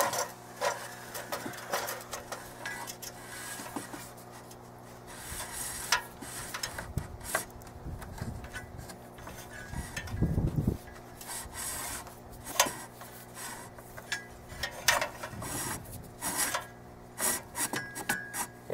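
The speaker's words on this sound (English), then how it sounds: "now I'm just going to feed it through there" A cable for a weBoost Model 470103 cell booster antenna is fed through a hole near the roof line, making soft scraping and rubbing sounds with occasional low thumps, quiet and close, with no talking.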